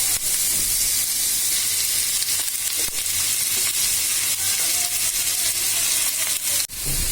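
Boiled taro pieces frying in hot oil, a dense continuous sizzle and crackle heard close up with no voices, the spatter briefly rising near the end.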